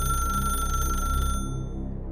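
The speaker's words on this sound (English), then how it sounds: "Then the phone rang a 3rd time." An old rotary telephone in a bedroom gives a shrill, mechanical ring that holds loud and steady, then cuts off after about a second and a half, leaving a faint hum.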